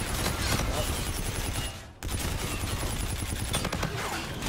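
Dense bursts of video game gunfire, rapid overlapping shots at close range, fill the moment with a brief gap midway before firing resumes just as loud.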